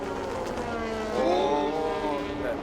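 Race cars running side by side through the Porsche curves at the 24 Hours of Le Mans at dusk, a loud sustained engine roar rising and shifting in pitch as they pass.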